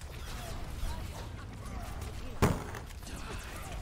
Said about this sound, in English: Sounds like you just slammed your desk.